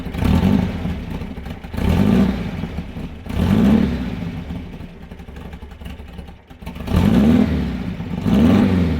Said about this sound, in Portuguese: Deixa eu dar uma partida então para vocês verem a obra-prima que o Alan fez aqui